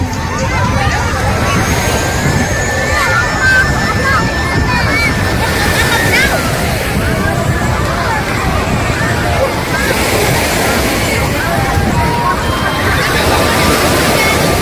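Ocean waves wash onto a Vietnamese beach crowded with swimmers, steady loud surf and wind mixed with distant crowd babble and nearby talking throughout.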